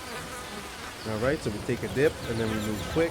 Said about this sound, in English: because we don't want to get stung by the bees